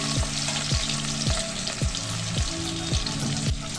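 Chopped onion and green chillies fry in hot oil in a pan, sizzling steadily up close, with a regular scraping rhythm of stirring about every half second.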